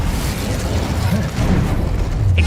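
Fiery spell blast from the Incendio charm in the Hogwarts Legacy video game, a dense, sustained rumbling burst of flame with a brief crackling pop near the end, loud and close.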